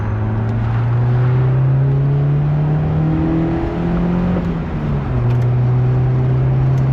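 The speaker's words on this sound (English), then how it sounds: "I'm going to leave you with one last pull of this car so you can hear just how good it sounds" A 1989 Honda Prelude engine pulls hard and steadily for several seconds, loud and close, its tone climbing through the revs, dipping briefly as a gear changes, then rising again.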